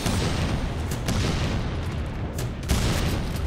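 In a video game called Butcher, set at a volcano research site, a grenade launcher fires in dense, loud booming blasts that overlap into a constant roar, with a few sharper bursts standing out.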